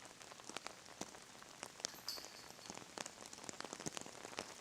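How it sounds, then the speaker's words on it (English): Rain falls steadily on a golf course, a soft, continuous patter of drops hitting the surface and nearby objects, fairly faint with occasional sharper taps. "Rain's coming down pretty good at this point."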